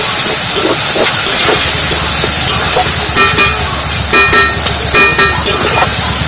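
Water from ground spice paste hits cauliflower frying in hot spices, setting off a loud, steady hissing sizzle with scattered crackles and bubbling pops.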